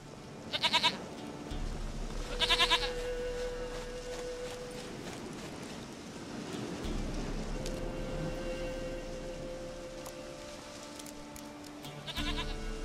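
A goat in The Witcher III: Wild Hunt bleats in short, nasal bursts, three or four calls spread across the clip over soft ambient game background with low droning tones.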